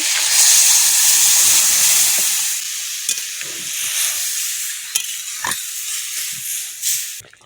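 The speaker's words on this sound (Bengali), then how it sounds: "ডালটা ঢেলে দেবো" Mung dal poured into a hot pan gives a loud burst of sizzling that fades over a few seconds into softer bubbling, broken by scattered stirring clicks and knocks close by.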